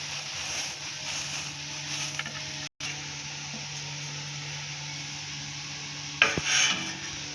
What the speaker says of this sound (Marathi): तर आता आपण याच्यामध्ये मॅगी टाकूया।